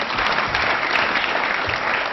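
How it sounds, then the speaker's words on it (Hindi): A burst of crowd applause, dense and fairly loud, continuing steadily for a couple of seconds. "तालियां इनके लिए बजाइए।"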